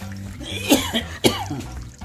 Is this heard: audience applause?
no